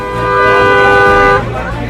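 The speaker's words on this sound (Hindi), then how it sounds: "हॉर्न बजाते रहे" A car horn sounds in one long, loud, steady blast outside a house, cutting off after about a second and a half.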